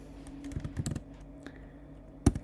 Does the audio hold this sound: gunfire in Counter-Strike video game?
no